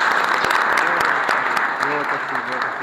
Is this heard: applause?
yes